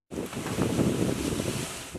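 Loud, steady storm wind roars and buffets the microphone for about two seconds in Denizli, Turkey, a continuous broadband rush with no voices.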